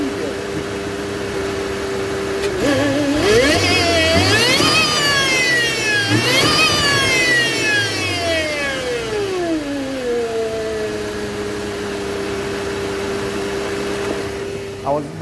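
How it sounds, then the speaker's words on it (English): Supercharged Mercedes W204 C200 Kompressor engine revving with the air filter removed, loud and close. The rising and falling supercharger whine sweeps up and down over the engine note and then settles back toward idle. "Without the filter on, there's induction sound. Yes, but there's supercharger sound like you won't believe."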